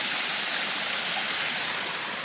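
A waterfall roars in a steady, dense broadband rush of falling water, close and unbroken throughout.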